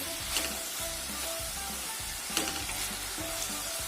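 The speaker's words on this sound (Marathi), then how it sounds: "अशी भाजी तेलात परतल्यामुळे अतिशय सुंदर चव लागते" Ghevda flat beans fry in hot oil with a steady, dense sizzle, punctuated by occasional stirring scrapes against the pan, close and even throughout.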